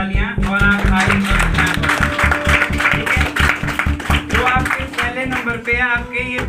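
Crowd applause for top-ranked written exam students at an Agniveer army recruitment event, dense steady clapping throughout with rhythmic taps and voices mixed in.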